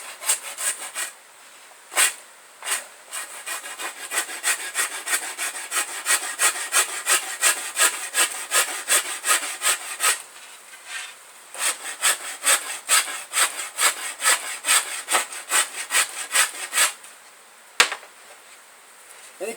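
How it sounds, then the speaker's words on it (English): A small rounded rasp works a yew bow handle on a vine maple flatbow, sounding as quick dry rhythmic scraping strokes in steady bursts with brief pauses, close and fairly loud. "here's where you can use your rounded rasp, your smaller one, to really get into those corners"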